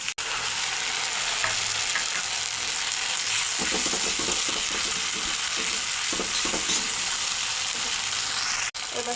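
Paste of ground ginger, garlic, cumin and white mustard seed frying in hot oil for a tengra fish curry, a steady loud sizzle with scraping stirs midway and a clatter near the end.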